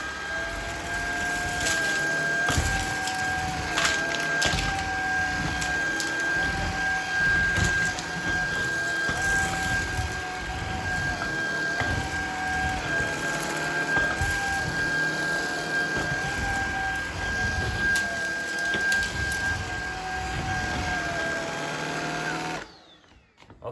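A Shark Vertex cordless vacuum runs steadily and close while picking up debris such as jelly beans. A constant whine and motor drone hold for most of the clip, then cut off near the end, with no talking.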